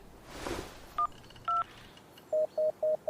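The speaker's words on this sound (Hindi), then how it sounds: "क्या यार, फोन भी नहीं लग रहा है।" Telephone keypad dialing tones from a call that fails to connect: two separate beeps, a short gap, then four quick evenly spaced beeps, all clear and close, after a soft rustle at the start.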